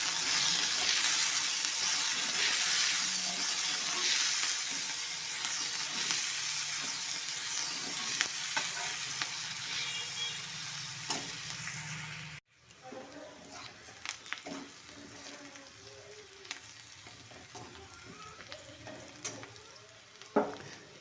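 Chopped onions hit hot oil in a pan and sizzle loudly and steadily, a dense crackling hiss that drops to a quieter frying crackle midway with occasional stirring clicks.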